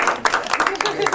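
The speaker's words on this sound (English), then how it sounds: "Can we give the little ones a round of applause?" Audience clapping for little children at a Des Moines political event, a burst of dense, close applause with sharp individual claps, heard alone without talk.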